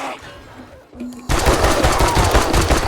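Sustained rapid automatic gunfire in the zombie survival game 7 Days to Die, loud and continuous after a brief quieter lead-in with faint game sounds.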